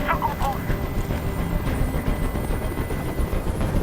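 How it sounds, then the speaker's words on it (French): A helicopter hovering nearby in the video game Detroit: Become Human, a steady rumbling rotor drone filling the scene at constant loudness, with faint game sounds mixed in. "Fais dégager cet hélicoptère"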